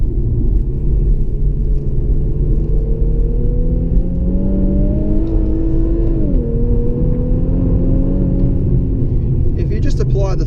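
A 2017 Infiniti Q50 Red Sport 3.0-litre twin-turbo engine revs hard and climbs steadily in pitch, loud and close, with a brief dip in the middle as it keeps pulling.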